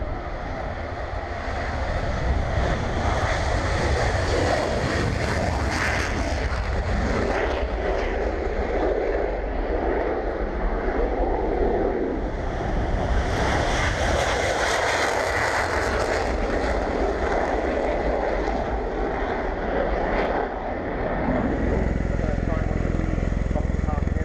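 At the RIAT airshow, military jets take off with a loud, continuous roar that rises and holds throughout, while a voice speaks over it.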